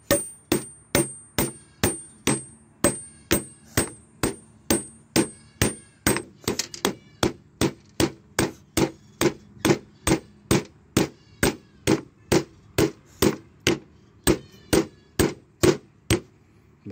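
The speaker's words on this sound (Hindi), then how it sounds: "ये इसको हैमरिंग करेंगे तो ये बाहर आ जाएगा" Hammer striking a part on a 20-ton ACE crane hydraulic pump to drive it out, a steady series of loud, sharp metallic clanks, about two per second, alone with no talk.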